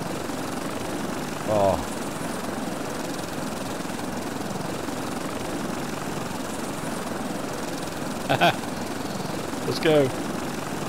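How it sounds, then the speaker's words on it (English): A helicopter in the survival video game Stranded Deep hums with a steady, moderately loud rotor drone throughout, while a person speaks briefly a few times over it. "How cool is this? We've got a helicopter!"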